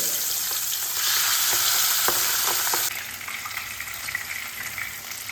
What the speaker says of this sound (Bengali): তেল গরম হয়ে গেছে এবার আমি মাছগুলোকে হালকা করে ভেজে দেবো